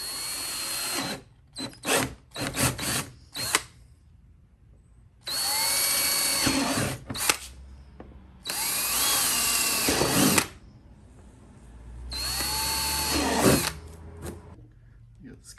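A power tool fitted with a fresh small blade cuts through a plastic carbon bumper on a 350Z, whining in several short bursts and longer runs with pauses between them.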